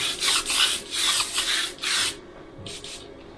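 A SAGOLA XTECH 400 airbrush with a 0.3 nozzle sprays paint in short repeated bursts of hissing, several in a row with brief pauses, close and fairly loud, ending with quieter puffs.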